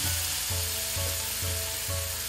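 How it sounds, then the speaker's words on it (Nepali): A large tomato sizzles in a hot pan while roti soup is being made, a continuous loud frying hiss with a soft rhythmic thump repeating about every half second underneath. "अब मैले यसमा राखेँ एउटा ठुलो साइजको टमाटर"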